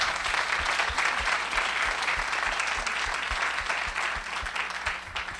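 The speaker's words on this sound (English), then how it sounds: "So let's have a big round of applause for the foundation." Audience applause at a school awards ceremony, a large crowd clapping densely and continuously, loud and close, slowly easing off toward the end with no speech.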